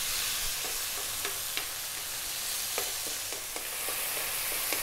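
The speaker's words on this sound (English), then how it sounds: "Give it a stir every now and then." Tomatoes cooking down in a pan give a steady broad sizzle, with faint scattered taps and scrapes as they are occasionally stirred, no voices.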